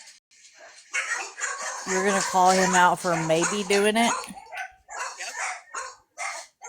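Dogs bark and whimper in a short burst of yips in the middle, while a person keeps talking before, over and after them.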